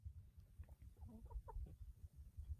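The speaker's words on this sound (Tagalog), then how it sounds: "Yung mga chickens namin dito, they are very healthy." Healthy free-roaming farm chickens cluck softly in short bursts, a few hens murmuring at middle distance over a low rumbling background, quiet, with no speech.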